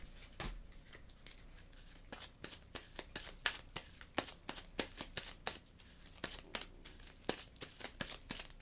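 Close, quiet card shuffling: a rapid series of sharp riffling snaps and slaps in bursts, repeating steadily for several seconds.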